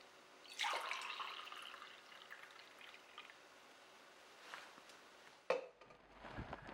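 Cucumber juice trickles and drips from the outlet of an Omega Sana EUJ808 juicer, a faint, quiet stream with a few soft splashes near the start and a sharper drip toward the end.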